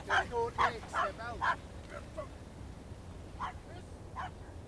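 A dog barks in a quick series of sharp yips near the start, then gives a few fainter, spaced barks, with someone speaking Spanish over the quieter stretch.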